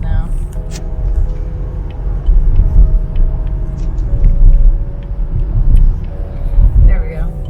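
Car engine and road rumble from inside a moving vehicle on the way to marshlands, a steady low drone throughout with faint voices talking over it.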